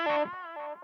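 Distorted electric guitar through a Mooer Prime P1 on a tape delay setting, one loud chord sustained then fading into softer repeated echoes before cutting off.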